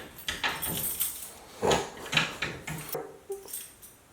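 A big bunch of around thirty keys jangles and clinks in irregular bursts of rattling metal, close and fairly loud, with occasional heavier knocks between the jingles.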